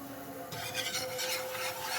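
Flour being stirred and roasted in a couple of tablespoons of oil in a kadhai, a steady scraping stir with soft sizzle that grows busier after the first half second, close and continuous with no talk.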